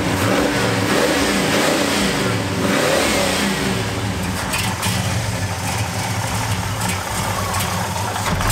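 Classic Chevy muscle car engine running loud and close, with a few deep revs swelling and falling early on before it settles into a rough, rumbling idle.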